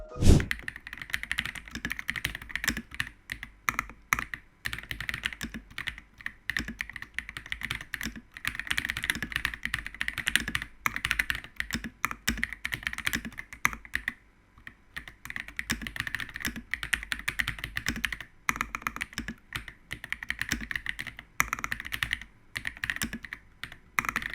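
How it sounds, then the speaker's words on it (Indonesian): Steady, rapid typing on a Kiboom64 mechanical keyboard, soft muted key clacks in a continuous stream with occasional heavier thunks, recorded close and fairly quiet. "Yang mau dengar suara typing testnya, kalian bisa dengar suaranya sebagai berikut."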